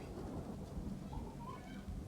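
A thunderstorm rumbles in Ghost of Tsushima: a low, continuous roll of thunder with rain hiss, steady and fairly faint. No one speaks.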